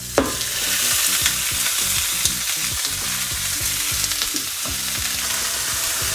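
Frozen shaved steak searing in a hot pan, a loud, constant sizzle and crackle with scattered pops and scraping stirs throughout, close up and with no talking.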